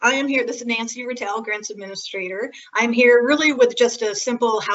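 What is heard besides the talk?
No everyday noises stand out.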